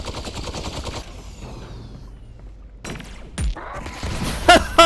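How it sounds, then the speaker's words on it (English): Gunfire and explosive launcher blasts in Half-Life: Alyx, a combat sequence with scattered shots, thuds and a couple of sharp, loud bursts near the end over a busy game background. "let me shoot them with a grenade launcher again"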